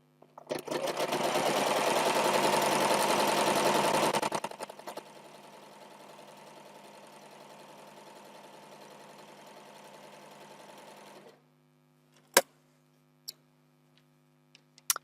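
A sewing machine stitches the long edges of two quilt squares for a 4-patch block. It runs loud and fast for about four seconds, then hums more softly and steadily before stopping, followed by a few sharp isolated clicks.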